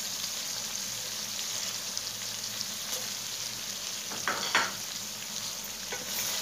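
Boiled eggs go into a potato curry frying in a pan, a steady hiss of sizzling oil with a few soft scraping stirs partway through. The sound is close and moderately loud, and no one talks.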